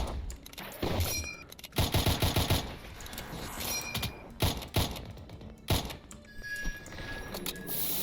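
A video game boss fires a barrage of molten hands, heard as rapid clattering volleys of bursts in uneven clusters, loud and close, with gaps between the salvos.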